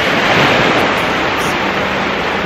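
Ocean waves wash onto Lagoi Beach in a steady, close wash of surf, with wind rushing over the microphone and no voices.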